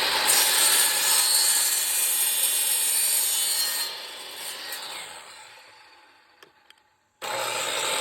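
Steady hand-sawing of PVC pipe into equal pieces for a garden hoop frame, a loud continuous rasping stroke that fades after about four seconds, goes nearly silent with a couple of small knocks, then resumes abruptly.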